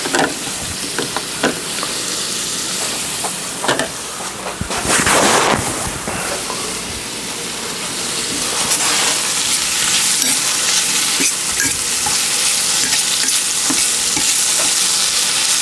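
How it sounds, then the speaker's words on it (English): Spinach wilting in a pan of sweet cream butter and olive oil alongside pan-fried salmon, giving a steady close sizzle with repeated stirring and scraping, one louder clattering burst near the middle, no talking. "And so I'm going to just use the spinach along with that. Just saute that down."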